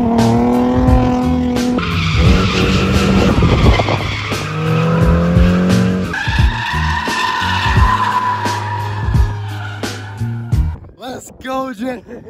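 Ford Mustang drift car skidding with loud, sustained tire squeal and roaring engine, close and intense, shifting in pitch as it slides, with voices shouting over it near the end.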